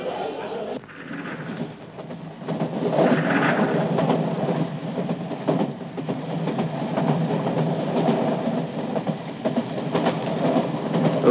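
A train runs on the rails with a continuous rumbling roar and faint rhythmic clatter. It sounds close and steady and carries on for the whole stretch beneath muffled voices.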